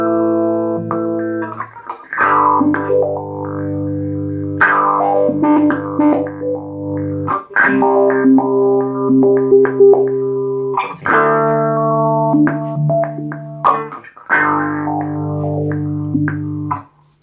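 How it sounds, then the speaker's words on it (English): Guitar and amp left feeding back through a pedalboard of effects, producing loud sustained distorted tones that shift pitch in long layered swells and bursts, continuous for the whole stretch with no voices. "imagine walking off stage, leaving your guitar and amp feeding back to this"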